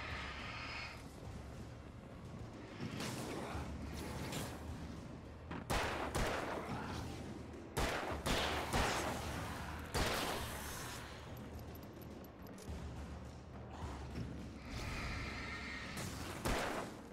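Repeated gunshots and explosive blasts in the video game Alan Wake, several sharp bursts spaced across a dense, noisy action soundtrack with no talk.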